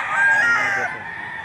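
A chicken brought to a market in Padre Garcia, Batangas for sale crows once, loud and close, for about a second before the sound falls away.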